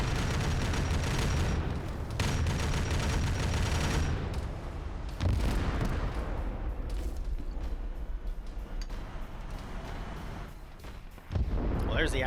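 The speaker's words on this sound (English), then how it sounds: "We keep hearing this massive cannon firing." Heavy tank cannon fire in a video game, booming blasts with broad rumbling roars and a sharp new shot near the end, loud and dense, with talk mixed underneath.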